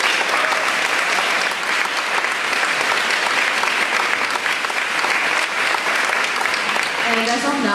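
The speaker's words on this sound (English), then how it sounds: "Round of applause." Enthusiastic crowd applause filling a room at the Pink Dot 10 campaign launch event as sponsors are thanked, continuous heavy clapping for several seconds before a voice begins speaking at the end.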